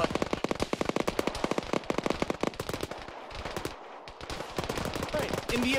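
Rapid automatic gunfire in the Arma military video game, dense bursts of shots crackling close and loud, pausing briefly midway before more firing resumes with background noise.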